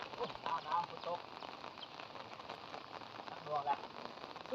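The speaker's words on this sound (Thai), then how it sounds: "น้ำฝนตก" Steady rain patters and hisses on a surface, with faint voices murmuring in the background.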